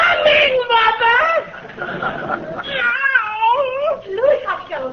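A 1943 Christmas radio comedy show cat effect: wavering, warbling meows and drawn-out caterwauls in several rising and falling bursts, close and fairly loud, sounding like a human voice imitating a distressed cat.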